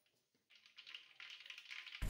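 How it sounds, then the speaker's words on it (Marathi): Mustard seeds crackle and pop in hot oil, left over from frying coconut, while tempering for a Maharashtrian chivda; a dense, steady sizzle of tiny pops builds after a brief quiet and ends in a sudden louder burst. "मोहरी तडतडली की जिरं घालून घेऊ।"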